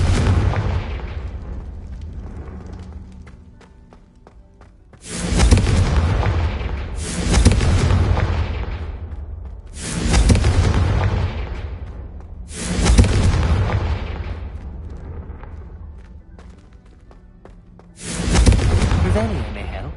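Confringo fire spell blasts in the Hogwarts Legacy video game, five loud booming explosions spaced a couple of seconds apart, each with a long rumbling decay, over a steady low background.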